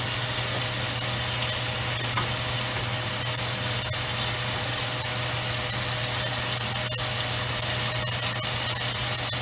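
Spicy burgers frying in a pan under a running exhaust fan, a loud continuous sizzle with a steady hum beneath it and occasional crackles throughout.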